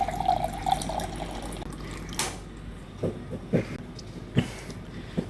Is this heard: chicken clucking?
no